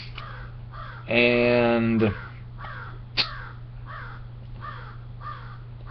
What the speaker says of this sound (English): oh, these damn crows.